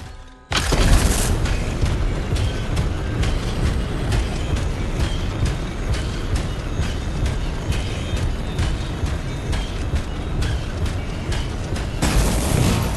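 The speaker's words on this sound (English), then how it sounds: "It'll be a contained explosion." A large explosion from the video game Anthem, played on Xbox One X, bursts in loudly and rolls into a sustained, dense roar of rumbling blasts and debris that continues unbroken for the length of the scene before cutting off abruptly.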